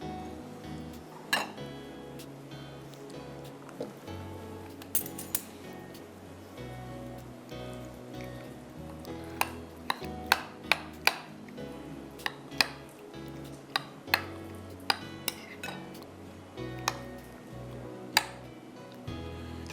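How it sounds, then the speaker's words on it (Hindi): Chicken being mixed with ingredients in a bowl, heard as irregular light clinks and taps of a utensil against the bowl over a steady low background hum. "इसको आप अच्छी तरह से मिक्स कर लें।"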